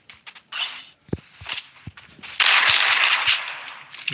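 Gunfire in a ranked online shooter game: a few sharp shots in quick succession, then a louder, sustained burst of firing with crackling noise, fairly close.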